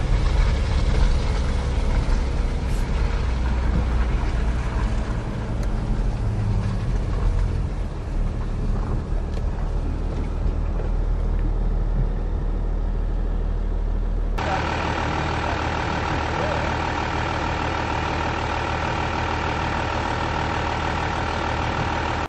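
An Audi car's engine runs steadily as it turns around outdoors at night, a continuous low idle-like drone that shifts in tone partway through as the car moves.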